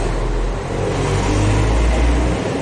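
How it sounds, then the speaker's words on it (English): Steady roar of road traffic on a main road in Uganda, with low engine rumble and continuous passing-vehicle noise, loud and close throughout. "Sorry about the noise, I'm on the main road."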